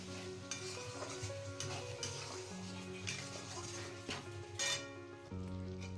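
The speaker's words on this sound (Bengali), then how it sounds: "এবারে দেবো পিসে রাখা পালংটা। পালংটা ভালো করে কষবো।" Spinach is stirred and sautéed in a hot pan of spiced masala for a palong chicken dish, giving a steady sizzle and frying crackle with scraping stirs, while background music plays.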